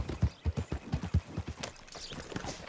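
Horse hooves clip-clopping in a fast, even rhythm while riding in the video game Red Dead Redemption 2, close and distinct at first, then softer and more blurred.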